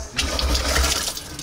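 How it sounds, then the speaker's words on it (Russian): Tap water running under its own mains pressure, with no circulation pump, in a 1917 village house on the Volga; a steady, close rush of flowing water lasting the whole moment. "Вода здесь, напор, никакого не стоит, никакой циркулярный насос нет, что она вот под своим давлением идет."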